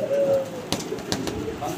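Pigeons, including female Koka pigeons kept for sale, give soft, low cooing calls in short repeated bursts nearby, with some faint background noise.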